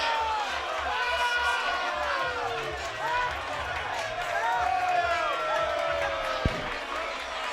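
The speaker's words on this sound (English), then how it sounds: "the crowd reacting to the fact that one of the round card girls took a stumble" A boxing arena crowd at a fight reacts with a swelling murmur and scattered cheers after a round card girl stumbles, while a commentator talks over the noise.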